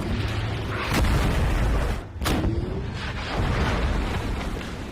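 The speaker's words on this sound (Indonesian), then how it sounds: "Sebelum bertempur, mereka menguji tank baru tersebut dengan menembak target." A new tank test-fires its main gun at a target in the war film White Tiger. Two heavy booms about a second apart sit over a dense, rumbling background that swells and fades around them.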